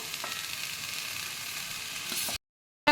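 Vegetables for vegetable fried rice sizzling in a hot pan, a steady loud frying hiss with faint stirring clicks that cuts off abruptly near the end.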